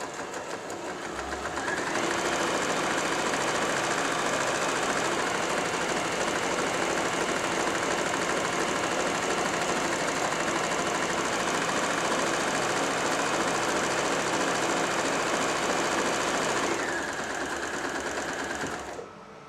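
A Janome J3-24 sewing machine stitches a buttonhole in a loud, fast, continuous mechanical whirr that runs steadily for most of the stretch before stopping near the end.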